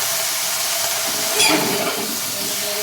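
Bottle gourd hits a hot pan and sizzles with a constant, close hiss that swells briefly partway through as the pieces land, with no voices.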